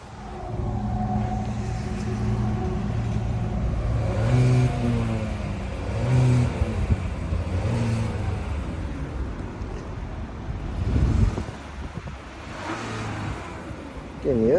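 A 2021 Hyundai Kona's engine in sport mode revs up and down several times, pitch rising and falling over a steady close-up hum, loud throughout.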